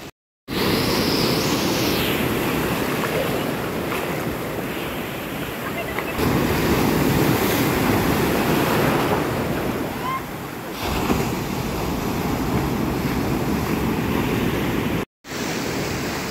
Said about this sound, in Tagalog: ayan yung parating ng mga alon, nadudurog na siya ng mga bato eh